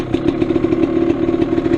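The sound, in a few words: GasGas EC300 dirt bike engine with Lectron carburetor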